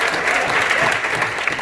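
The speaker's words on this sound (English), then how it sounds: "please give everybody that came over there to get a big hand clap for me." A convention audience at a Marvel vs DC panel applauds: a brief, loud, dense burst of many hands clapping that holds steady throughout.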